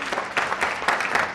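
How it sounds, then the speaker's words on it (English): Brief, thin applause from a small audience at a wellness fashion show, a short patter of clapping with no talk. "Was that tepid applause for me returning or for him leaving?"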